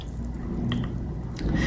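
Hot water is poured into a dish of cold water for an ocean currents experiment, a continuous close liquid trickle and splash with small drips, steady throughout and slightly louder at the end.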